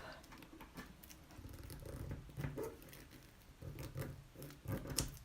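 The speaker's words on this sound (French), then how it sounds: "une paire de ciseaux, on coupe." Scissors snip through a stencil roll in a quick run of faint, close cuts, each a short crisp bite in an irregular rhythm.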